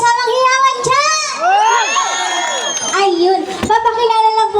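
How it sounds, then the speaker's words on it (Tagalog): An audience at a live singing performance cheering and shouting, with high, drawn-out voices rising and overlapping in loud whoops that swell and fall. "Wala bang masigaw po palakpakan na may kasamang hiyawan dyan?"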